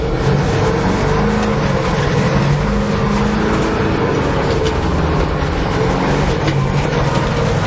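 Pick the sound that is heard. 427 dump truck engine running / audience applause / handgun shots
427 dump truck engine running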